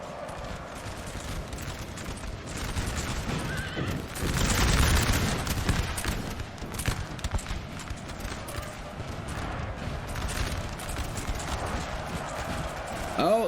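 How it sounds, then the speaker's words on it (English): Charging dragoon cavalry horses in Napoleon Total War thunder in a rolling clip-clop of hooves mixed with musket volleys and booms, with a commentator talking over the battle throughout. "Their artillery getting charged now by some dragoons."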